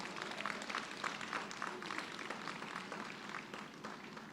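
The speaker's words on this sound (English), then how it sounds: "Please give everybody a resounding round of applause." Audience applause at a university Founder's Day convocation, a steady wash of many hands clapping at moderate distance, fairly quiet and even throughout with no voices.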